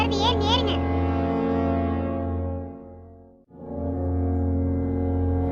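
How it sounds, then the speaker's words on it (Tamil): A bus horn blares in a long, loud, steady tone, briefly cutting out before sounding again just as strongly. "இந்த ஹாரன் பஸ்"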